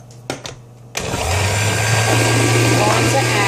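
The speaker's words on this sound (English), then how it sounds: "I'm going to blend this up. While this is blending" An electric blender whirs up to a steady, loud hum as it purees salsa verde, starting after a few brief clunks and then running continuously.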